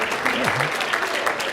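An audience applauds during a talk, a dense, steady patter of clapping over a short moment while a voice speaks over it.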